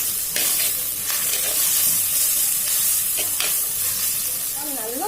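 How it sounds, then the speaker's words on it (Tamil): Tomatoes sauté in a pan for a chicken and capsicum gravy, with a steady loud sizzle and hiss and repeated stirring scrapes, close up throughout. "தக்காளி தோல் வெளியில வர அளவுக்கு வதங்கணும்"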